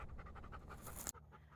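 Sam, a dog resting on a ridge overlook after a hike, pants in quick rhythmic breaths that are soft and close. The panting ends suddenly with a brief high squeak.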